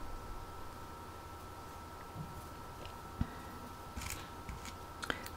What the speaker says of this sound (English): Cut the thread